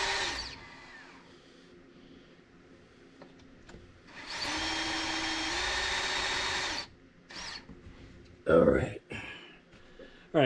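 A power drill bores out a broken valve cover bolt on a 6.4L engine in several bursts: a high whirring run, then a longer steady drilling stretch, followed by short clattering tool sounds, with someone talking between bursts.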